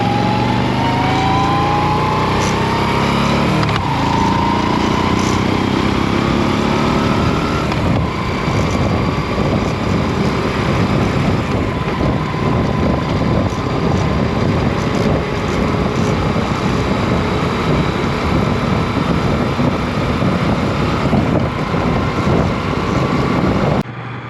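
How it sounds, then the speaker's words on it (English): A 2021 Moto Guzzi V7 Stone motorcycle engine roars loudly and steadily as it accelerates away, rising through gear changes, with strong wind buffeting and no talking. "hopefully you could hear how this machine sounds as it accelerates away"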